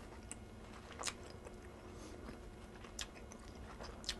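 Quiet, close crunchy bites into a crisp, cold homemade salad, a few sharp crunches spaced a second or two apart over low background hiss.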